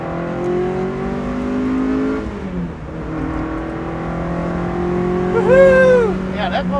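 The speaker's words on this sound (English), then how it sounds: "that motor sounds good" Alpine A110 rally car engine running steadily with strong harmonic drone, then revving up and down sharply near the end, loud and close, with people talking under the engine noise.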